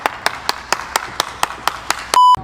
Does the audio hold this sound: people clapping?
yes